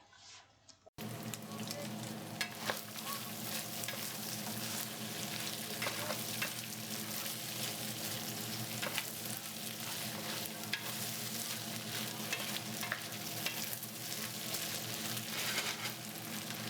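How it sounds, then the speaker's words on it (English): Continuous loud sizzling and crackling of tender pork pieces for carnitas frying in a hot pan of oil, starting abruptly after a brief quiet moment, with scattered pops throughout. "I added all my very tender pieces of pork into a hot pan of oil"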